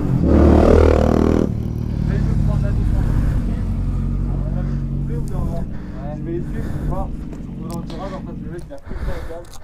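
A smoking engine idles and churns loudly with a steady low rumble, starting with a strong revving burst, while people talk over it.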